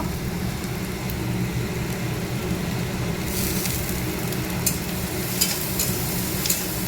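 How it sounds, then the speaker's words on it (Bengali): Onion and green chili sizzle and fry steadily in a pan, a continuous close hiss with faint stirring clicks toward the end. "এই যে পেঁয়াজটা লঙ্কাটা একটু ভেজে নেবো, তারপরে আলুটা দেবো।"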